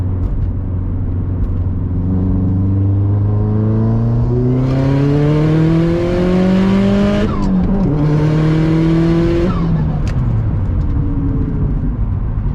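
A 2022 Subaru WRX pulling hard at full throttle, its engine note climbing steadily through the revs, dropping at a shift, then climbing again in a second gear, loud and close from inside the car.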